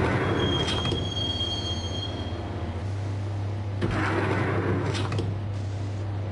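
A Max Payne subway train rolls into Roscoe Street Station with a steady low rumble, a thin wheel squeal over the first seconds and periodic clanks of the cars, heard alone.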